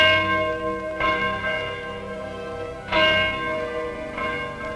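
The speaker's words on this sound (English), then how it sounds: "this bell is rung." A large bell rings at noon in Germany, three resonant strikes about a second or two apart, each leaving a long humming decay.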